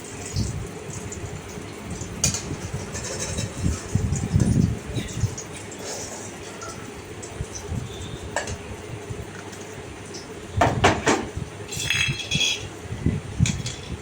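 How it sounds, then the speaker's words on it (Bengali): Burnt frying oil is poured off and a kadai is washed in a home kitchen: water splashing and running, with clinks of metal and utensils knocking against the pan, moderately close and steady. "পোড়া তেলটা আমি একটা জায়গার মধ্যে রেখে দিলাম আর কড়াটা ভালো করে ধুয়ে নিলাম"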